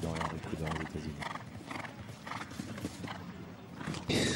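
Hoofbeats of a show jumper on course at the Global Champions Tour Chantilly Grand Prix CSI5* over 1.60 m fences, with a rhythmic clip-clop of hooves and a brief whinny, under a commentator's talk and crowd ambience.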